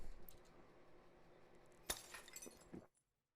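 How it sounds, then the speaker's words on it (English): Glass breaking in a neighbouring room in the game Chaos;Child, a sudden shatter with scattered tinkling shards over quiet background ambience, ending abruptly in silence. "was that the sound of breaking glass?"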